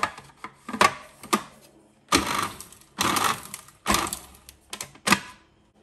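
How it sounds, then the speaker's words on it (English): A food processor pulses flour, salt and sugar in a series of short, sharp bursts of whirring blades, about eight quick pulses separated by brief pauses, clattering and close. "we're just going to pulse this to make sure that all the ingredients are equally"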